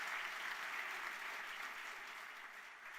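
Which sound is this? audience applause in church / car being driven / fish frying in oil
audience applause in church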